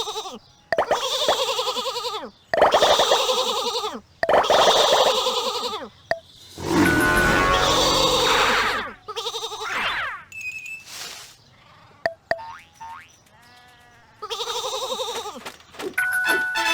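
Sheep around Bethlehem bleat in a series of loud, wavering calls with short pauses between them, followed by softer mixed sounds near the end.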